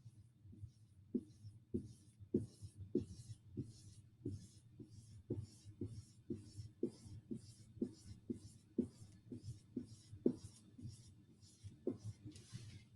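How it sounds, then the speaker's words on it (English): A pencil scratches out a run of small circles on paper, each quick loop a soft, close scrape repeating at a loose, steady pace with no speech. "So I'm just going to draw a bunch of circles."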